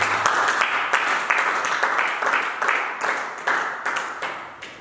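A church congregation claps in a steady, rhythmic beat, loud and close, with each clap sharp and evenly spaced.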